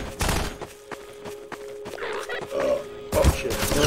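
Gunfire in Half-Life 2 comes as a rapid burst of close, sharp shots at the start, then scattered bangs and impacts with a steady hum under them, and a heavier crash near the end.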